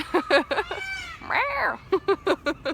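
Peacocks call nearby in loud, wailing short repeated bursts, with one longer rising-and-falling cry in the middle.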